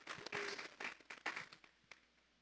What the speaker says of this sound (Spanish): Vamos a darle un fuerte aplauso pues al Espíritu Santo esta mañana.